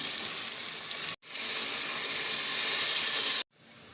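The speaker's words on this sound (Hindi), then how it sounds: "अब हम इसमें हाफ ग्लास पानी का ऐड करेंगे।" Half a glass of water poured into a hot karahi of sizzling chicken sends up a loud, rushing hiss of steam and frying that swells and holds, cut by short gaps.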